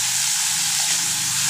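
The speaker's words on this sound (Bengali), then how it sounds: "আর এই তো মাছ ভেজে তুলে নিয়েছি" Fish fries in hot, spattering oil in a pan, a loud, continuous close-up sizzle and hiss that stays steady from start to finish, with no voices.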